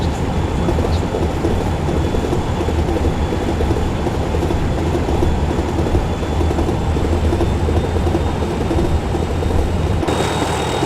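A Class 97 locomotive on a railtour from Norwich to Lowestoft runs along the rails with a constant deep rumble and wheel noise that holds steady, then shifts abruptly near the end.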